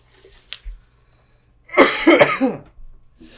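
A single harsh cough bursts out close to the microphone after a few faint clicks, followed by a brief quiet.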